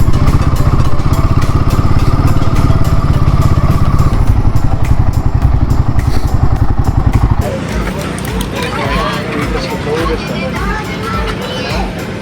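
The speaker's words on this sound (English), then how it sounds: "Okay, we'll park our bikes here." Motorcycles rumble close by as they ride in and are parked at Saputara hill station, with a loud steady engine throb that drops off as the bikes stop, followed by crowd chatter.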